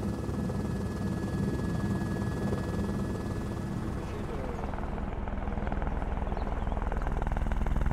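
A helicopter flying over the Mont Blanc massif, its rotor and engine drone loud, steady and close throughout, with a rhythmic blade chop growing stronger toward the end.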